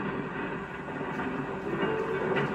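A freight train rolls along the rails in a steady, loud, continuous rumble with a dense wash of wheel and car noise throughout, and no voices.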